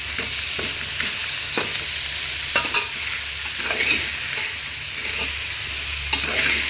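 Vegetable rice mixed with grated coconut is stirred in a pan, close-up scraping and soft sizzling in uneven strokes, a few sharper clinks of the spoon against the pan, no voices.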